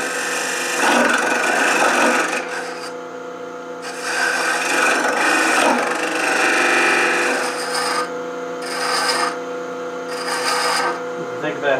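Woodturning tool cutting an undercut beside a bead knob on a spinning wood piece, loud rasping scrapes in several bursts separated by short pauses, with someone talking between and over the cuts.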